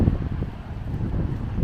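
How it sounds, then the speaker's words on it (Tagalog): Strong wind on a rainy day buffets the microphone outside Seafood City in Edmonton, with a steady low roar and gusty rumble throughout, loud and close, with no talking. "Dito sa lakas ng hangin."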